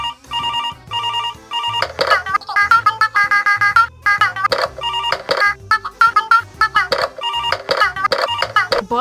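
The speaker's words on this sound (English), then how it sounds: "Their music starts as a telephone ringing sound" Cartoon character theme music built from a telephone ringing sound: loud, repeated bright electronic rings in rhythmic bursts over a steady low beat, continuing throughout.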